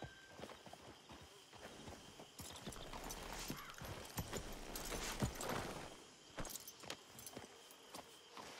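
Horse hooves clip-clopping at a walk in Red Dead Redemption 2, faint, irregular steps over a low ambient bed, with footsteps and light rattles mixed in.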